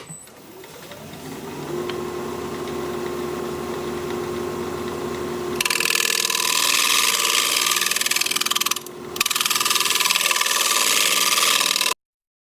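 A woodturning round nose scraper sharpened on a motor-driven grinder: a steady whine spinning up, then a loud harsh grinding rasp as steel meets the wheel, with a brief break before it resumes.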